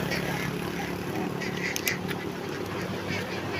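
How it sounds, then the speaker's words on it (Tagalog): A large flock of nearly a thousand farmed ducks quacking continuously, a dense chorus of overlapping calls close by over steady outdoor background noise. "Ayan, itik."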